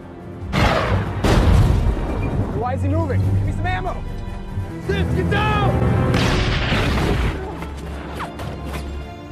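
Heavy anti-tank cannon blasts and crashing impacts boom out one after another in a war film, loud and close, amid dramatic soundtrack noise and shouting voices.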